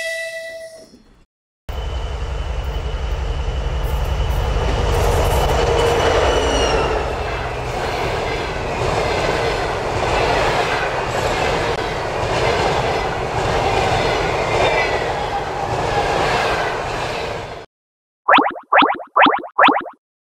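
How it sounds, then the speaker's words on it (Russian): Train rumbles past close by for a long stretch, steady roar of wheels on rails, followed by a short burst of chirping electronic tones. "Это пассажирский поезд."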